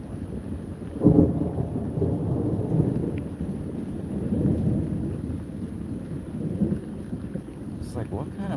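Low rumbling thunder rolls through a daytime thunderstorm with rain, a sharper crack near the start and steady rumbles continuing throughout.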